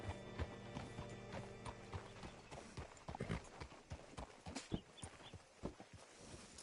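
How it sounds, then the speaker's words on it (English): Horse hooves clip-clop in Red Dead Redemption 2, a run of irregular close hoof strikes over a faint game ambience and music. "Hitch your horse up here."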